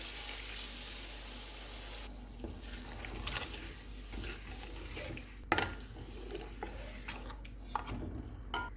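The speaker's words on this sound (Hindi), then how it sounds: "ऑयल अलग होने तक इनको भूनेंगे।" Yogurt, crushed black pepper and spices sauté in hot oil for chicken yakhni pulao, a steady sizzle broken by scraping spoon stirs and light clinks against the pot.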